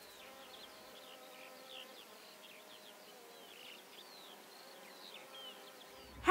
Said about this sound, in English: So buzz away, O buzzy bee, in your dance of life so carefree